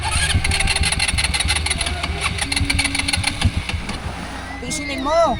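A scooter engine cranks with rapid rhythmic pulses, then catches and runs, rising briefly near the end, while people talk nearby.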